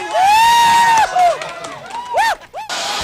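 A crowd of Filipinos, children and adults, watching the Pacquiao–Broner boxing fight cheer loudly, with rising whoops and shouts layered over a dense roar of voices that surges and dips across the moment.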